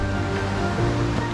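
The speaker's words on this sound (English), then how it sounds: "always the sound of the Johnston Creek rushing nearby" Johnston Creek rushes nearby as a steady, full roar of flowing water, continuous and even throughout, with no voices.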